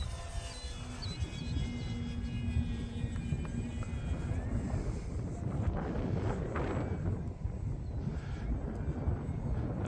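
An Eflite Extra 300 RC airplane flies and rolls overhead on a windy day, its motor a continuous droning whine at mid distance, mixed with constant rumbling wind buffeting on the microphone.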